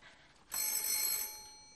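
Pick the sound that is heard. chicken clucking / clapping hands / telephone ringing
telephone ringing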